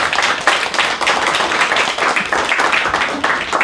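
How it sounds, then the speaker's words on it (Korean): A crowd at a book launch celebration bursts into loud, close applause, with many hands clapping densely and continuously throughout. "큰 박수 부탁드릴게요."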